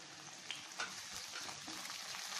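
Chopped tomatoes hit hot oil in a pan with softened onions for a brinjal kuzhambu, giving a steady, close frying hiss with faint crackles throughout and no voices.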